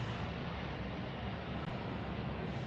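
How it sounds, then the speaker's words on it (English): A propeller plane passing overhead outdoors, a steady broad low drone lasting throughout at moderate loudness with no voices. "while the plane goes over"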